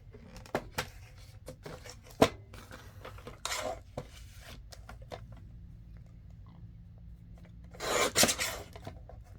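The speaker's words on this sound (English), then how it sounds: "Now I'll have to trim it just a little bit." Paper for an envelope pocket craft is trimmed with a series of close, crisp snips and rustling handling, scattered and irregular, with a louder burst of cutting near the end.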